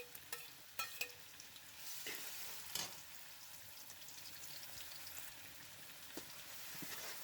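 Three medium onions, finely chopped, frying in hot oil, a faint steady sizzle with occasional clicks and taps of stirring.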